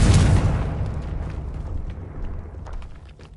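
A Confringo explosion spell bursts in the Hogwarts Legacy video game, a heavy, close boom hitting at once and then trailing off into a long rumbling decay with scattered crackles.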